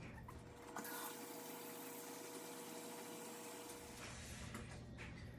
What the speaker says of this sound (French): Donc, je vais mettre de l'eau jusqu'ici.